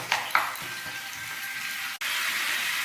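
Bengali mixed vegetables and spices for dal sizzle in a pan, a steady close frying hiss with a couple of stirring scrapes early on and a brief break midway.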